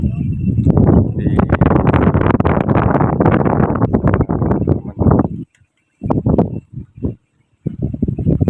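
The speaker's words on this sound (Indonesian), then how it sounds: "gede angin" Strong gusts buffet the microphone at a rice field, loud blustery roaring in bursts that cut in and out, broken by brief near-silent gaps.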